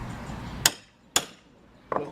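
Hammer work on a wooden pallet while pulling out large nails: three sharp, separate knocks spaced about half a second apart, moderately loud, with no voices.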